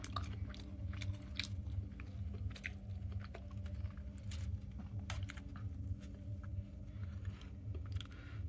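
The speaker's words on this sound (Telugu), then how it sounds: "మరి ఏదో ఇంకో ముక్క తింటున్నా." Soft, steady chewing of a hot, street-style bread omelette with onion, with repeated close, moist bites and crunches that run without pause over a low background hum, and no talking.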